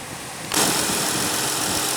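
A 2015 Dodge Challenger SXT with a 3.6 liter V6 bursts into a loud, close engine roar midway, then holds a steady rumbling idle.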